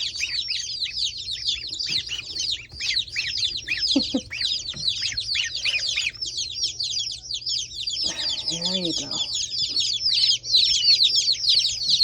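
Dense, continuous high-pitched peeping from many baby chicks fills the clip, with a brief spoken remark near the middle.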